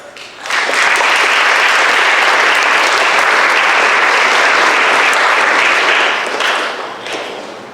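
An audience at a school Black History program breaks into loud, dense applause that swells quickly, holds strong for several seconds, then tapers off.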